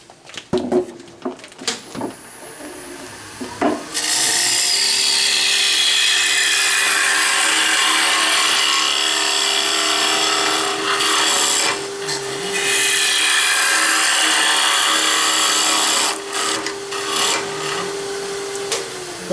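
A wood blank is roughed out on a woodturning lathe at a woodturners' club meeting. A sustained motor hum runs under harsh scraping and rasping as the gouge cuts, with a few brief dips and knocks. Nobody talks.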